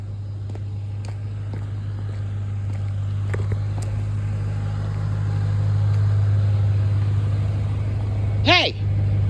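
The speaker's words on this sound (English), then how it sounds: "So that's this car out here that's been out here for 10 minutes running its fucking engine." Parked car idles loudly outside at night, a steady low engine hum running throughout, with faint footsteps and a short shout near the end.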